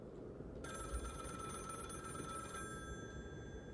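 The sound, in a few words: telephone ringing in a video game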